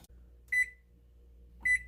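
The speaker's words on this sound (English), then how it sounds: "Setting the timer for 15 minutes." Two short, high electronic beeps from an oven timer being set, about a second apart, clear and close against a quiet background hum.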